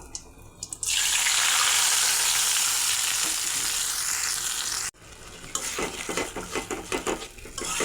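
A loud burst of sizzling as spice paste for a tengra fish curry hits hot oil, a steady spitting hiss for several seconds, then it drops suddenly and utensils scrape and clatter.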